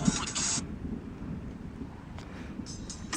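Thunder rumbles through a storm with rain, a low continuous roll that rises and fades over a few seconds, with brief louder bursts of static-like noise and faint voices in the background.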